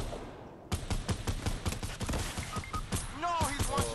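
Fortnite gunfire crackles in rapid, repeated shots at close range, layered with other game sounds and a player's voice talking over it.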